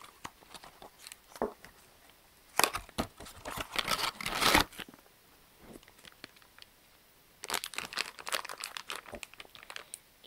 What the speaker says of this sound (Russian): Ну что ж, давайте откроем вот этот свитбокс.